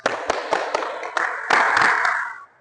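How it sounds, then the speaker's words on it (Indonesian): A group of students claps together in a badminton footwork lesson, sharp irregular claps at first that swell into a dense burst of applause before stopping abruptly. "Tepuk tangan dulu."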